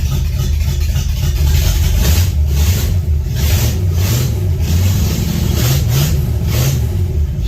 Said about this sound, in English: So let's do this cold start up here.